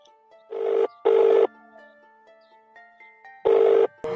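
A telephone rings in short, loud electronic bursts, two close together, then a pause and another pair, with a faint tone in between.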